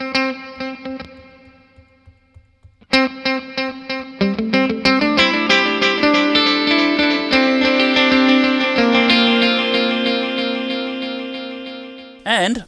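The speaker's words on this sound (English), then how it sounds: "you can use the Ernie Ball tap tempo switch to alter the delay time" Electric guitar run through an Ernie Ball ambient delay pedal with tap tempo, picking out a sparse line that then swells into dense, sustained repeating chords with echo and reverb, loud throughout and ending abruptly.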